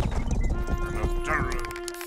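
Horse hooves clip-clop in the medieval open-world game Rustler, a brisk rhythmic trot heard under excited voices talking over the gameplay.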